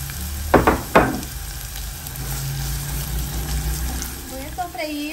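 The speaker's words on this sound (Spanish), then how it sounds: "Voy a sofreír el arroz, que ya lo tengo previamente lavado." Rice sizzles in hot oil in a pan with onion and green chile, a steady close frying hiss with a couple of stirring scrapes near the start.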